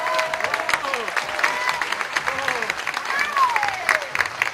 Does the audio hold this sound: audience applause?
yes